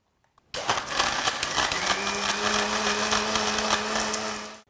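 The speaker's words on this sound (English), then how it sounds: "we'll blend it further" Kitchen blender whirring loudly as it blends yogurt, ice and black salt into buttermilk, starting abruptly and running steadily for about four seconds before cutting off.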